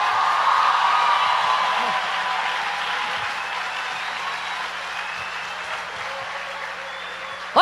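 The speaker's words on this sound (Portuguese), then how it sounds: "Se é para aplaudir, aplaude tudo junto." Audience at a church conference applauding together, a steady broadband wash of many hands clapping that stays loud throughout and swells slightly near the end.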